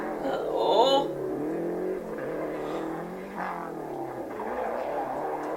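Rally cars race past on a forest stage, their engines roaring and revving close by in a steady rush, with spectator voices and crowd noise mixed in.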